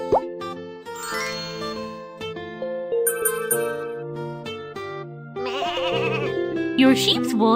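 Cartoon sheep bleat in a children's farm video game set around shearing and washing sheep, mixed with bright chimes, plops and game jingles under a voice talking.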